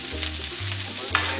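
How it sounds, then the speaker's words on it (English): Vegetables sizzle on a hot Blackstone flat-top griddle with a steady, close frying hiss over a low hum, and a brief scrape near the end. "We're just going to put the vegetables on there."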